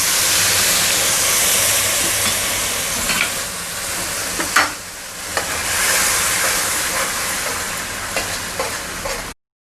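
Lemon juice and water hit a hot pan and set off a loud, continuous sizzle and hiss of steam. A spoon scrapes and clicks as the liquid is stirred, and the sound stops abruptly at the end.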